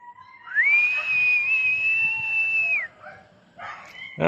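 A single long, steady whistle held for about two seconds after a quick upward slide, followed by a couple of short chirpy sounds.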